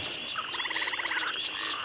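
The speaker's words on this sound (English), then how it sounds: "You see these slimy toads and slithering snakes gathering round your feet?" Toad croaks from an animated Halloween swamp hag prop come as a fast, even, rattling chorus, steady and fairly loud over a hissy background with no talking.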